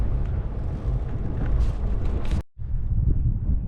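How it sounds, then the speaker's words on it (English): Strong wind buffets the microphone at the top of a mountain pass in Iceland's Westfjords during a bicycle tour, a loud continuous roar with a brief dropout near the end. "Not sure if you can hear me above the wind"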